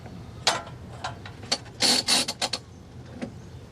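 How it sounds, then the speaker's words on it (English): Short bursts of whirring and scraping as a Q'Straint tie-down belt rewinds into its retractor, with a louder cluster of rapid zips in the middle; no talking. "That retracting noise you heard was the belt going back in."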